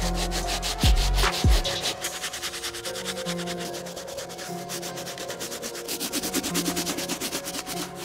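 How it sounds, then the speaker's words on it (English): A soft bristle brush dunked in a water solution scrubs the uppers of an Air Jordan 13 Mike Bibby Player Exclusive sneaker, giving a close, steady rhythmic rubbing with a few sharp knocks near the start. "We're gonna grab our soft bristle brush, dunk it in our water solution, and start hammering the uppers."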